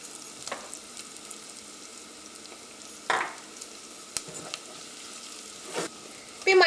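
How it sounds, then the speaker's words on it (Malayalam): Coriander powder frying in oil in a pan for a chicken stew, a steady low sizzle with a few brief scraping stirs and a louder clatter at the end, no talk. "ഈ മല്ലിപ്പൊടിയും എണ്ണയിൽ കിടന്ന് നന്നായിട്ട് മുരിഞ്ഞിട്ടുണ്ട്"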